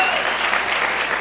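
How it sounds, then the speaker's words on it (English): Steady applause from an audience at a leadership development talk fills the moment, dense and continuous clapping throughout. "Everybody give yourselves a round of applause."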